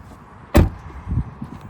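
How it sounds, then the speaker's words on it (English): A Tesla Model Y car door shuts with a single solid thud close by, followed by a couple of softer knocks and faint rustle, with no talking. "let me close the door."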